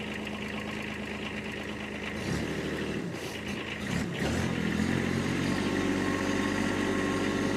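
A 2020 Kubota B2401D compact tractor diesel engine cranks over briefly, then catches and settles into a steady, close, rattling idle that grows slightly louder and rougher toward the end.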